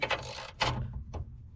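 A hand ratchet tightens the inside nut of a Perrin strut bar on a 2013+ BRZ/FRS/86, giving a few quick, close metallic clicking bursts in short strokes.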